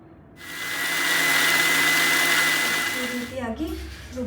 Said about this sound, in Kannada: ಇವಾಗ ಇದನ್ನು ರುಬ್ಕೋತೀನಿ